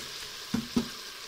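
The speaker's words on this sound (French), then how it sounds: "On va mélanger." Beef with tomato is stirred as it fries in a Cookeo, giving a soft sizzle with two quick scraping stirs, close and fairly faint.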